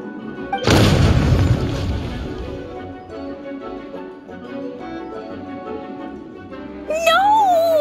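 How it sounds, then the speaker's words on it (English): Explosion in Genshin Impact: one sudden loud boom with a rumbling tail that fades over a couple of seconds, followed by game music and a brief voice. "Explosions can hurt people."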